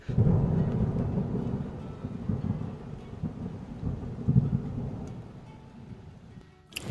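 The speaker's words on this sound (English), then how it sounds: "it's thundering, but there's no rain yet" Thunder before any rain, heard from inside a bivvy tent on the Pennine Way: a low, rolling rumble that swells and fades over several seconds, distant and steady, with no voices.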